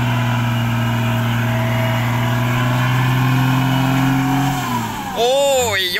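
A ten-wheel truck's diesel engine idles and drones steadily while it dumps sand at a sand stockpile yard, then shifts and revs near the end with rising and falling pitch, and a voice talks over it.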